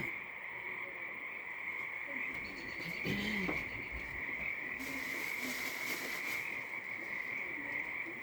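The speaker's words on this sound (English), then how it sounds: "Wow, those frogs are loud, huh?" Frogs croaking loudly outdoors near a pottery kiln, a steady chorus with a constant high-pitched trill running throughout, plus a few brief louder calls and rustles in the middle.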